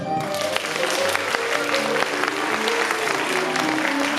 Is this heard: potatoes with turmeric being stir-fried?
no